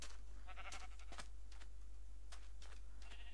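Sheep in the video game Minecraft, with several short bleats in quick bursts, fairly close, over a constant low hum.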